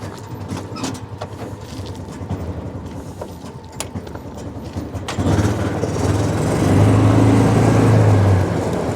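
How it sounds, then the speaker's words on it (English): A 2005 John Deere Gator TS 4x2 utility vehicle's Kohler gasoline engine cranks with a brief rattle, then catches and settles into a steady, loud, close idle. "We're going to go ahead and fire it up"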